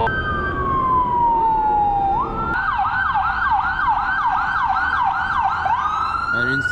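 An ambulance siren passes along a street, loud and close: first a long descending wail, then a rapid rising and falling yelp that repeats steadily before the wail returns.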